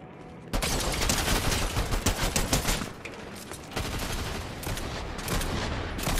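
Monarch pistol gunfire in Fortnite, a dense run of rapid shots over the opening three seconds, then a busier but quieter spell of game noise. No voice is heard.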